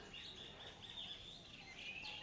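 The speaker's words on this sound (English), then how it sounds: "Look, all these birds." Many birds call and chirp together at the Taman Burung TMII bird park in Indonesia, a steady chorus of high tweets that goes on without a break, moderately loud and fairly close, with no talking.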